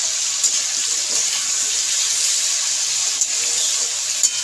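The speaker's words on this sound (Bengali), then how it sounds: "এবার আমি এর মধ্যে সামান্য একটু জল দেবো" Water poured into a simmering vegetable curry, a vegetarian five-vegetable torkari with daliya, during cooking: a steady, continuous splashing hiss heard close up with no voices.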